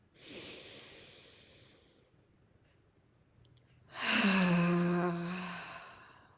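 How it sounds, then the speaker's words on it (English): A slow inhale drawn in through the nose, a quiet pause, then a long, loud, audibly voiced sigh pushed out through the mouth during a calming breathing exercise, close and alone. "breathe in through your nose and sigh it out through your mouth"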